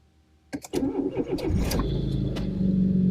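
A car fitted with a newly installed boost gauge cranks briefly, then its engine catches and settles into a rough, rumbling idle close by, with no speech.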